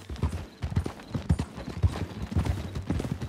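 Horse hooves clip-clop in Red Dead Redemption 2, a steady, evenly spaced trot of hoofbeats heard close and clear on its own with no talk.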